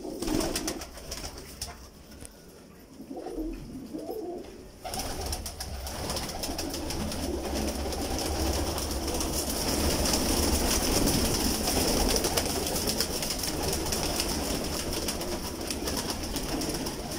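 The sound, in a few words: pigeons cooing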